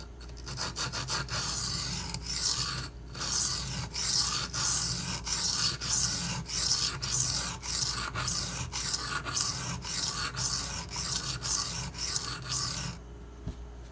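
A Benchmade 9400 knife blade drawn across a Shapton Glass sharpening stone, giving a steady run of close, rasping strokes in quick rhythm with brief pauses, ending in near silence.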